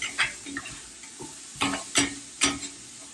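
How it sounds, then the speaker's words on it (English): Carrots and peppers get stirred through hot oil in a pan, with steady sizzling and a few distinct scraping strokes of the utensil, close and clear with no talking. "so I'll add in our carrots and peppers and let those cook up with it. And kind of stir them around"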